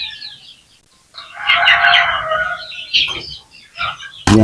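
Native chickens with a rooster crowing loudly nearby, the crow rising and falling over a second or more, followed by softer clucks and bird calls, then a sudden loud burst at the end.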